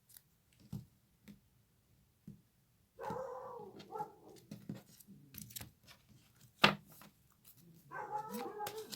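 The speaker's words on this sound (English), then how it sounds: "Apologies for the dogs barking." Dogs barking in the background, several short, sharp bursts scattered through the stretch with a louder yelp near the middle and whimpering sounds between.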